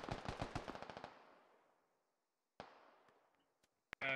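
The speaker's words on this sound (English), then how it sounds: "they're taking indirect fire and suppressive shots at us" Automatic gunfire in the military shooter game Squad: a rapid burst of about ten shots fading into a long echoing tail, then a few scattered distant cracks and a sharp loud report at the end.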